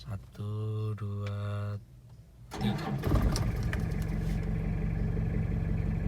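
A 2003 Toyota Kijang LGX diesel starts up: a steady tonal chime and a short pause, then the starter cranks and the engine catches into a loud, rattly diesel idle that keeps running close by. A voice counts aloud at the start.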